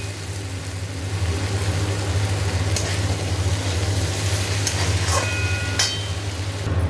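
A Bengali potato and ridge gourd poppy seed paste, seasoned with salt and sugar, sizzles in a pan while it is stirred. A steady fry hiss sits over a low constant hum, with occasional scraping clinks and no talking.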